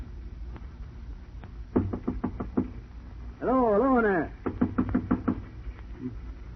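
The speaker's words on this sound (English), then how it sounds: "What's that knock?" Several knocks on a train compartment door in an old-time radio drama, rapped in two bursts with a rising and falling whistle or siren-like tone between them and a voice.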